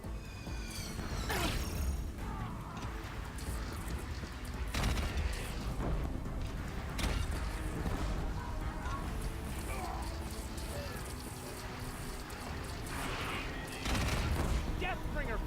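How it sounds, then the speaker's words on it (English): Heavy repeated Deathbringer gun fire in the action game Horizon Zero Dawn, loud bursts and booming impacts over a dense mechanical battle din, with a voice talking over the noise. "Deathbringer fire incoming!"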